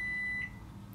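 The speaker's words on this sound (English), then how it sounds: "There's my timer." A kitchen timer gives a single short electronic beep, clear and steady for under half a second, then fades into quiet kitchen room tone.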